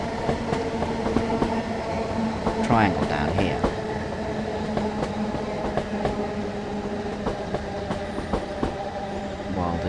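Steam locomotive (8F class) rumbling along with its train in Train Sim World 5, steady rolling mechanical noise with rail clatter and a brief squeal, a voice talking over it throughout.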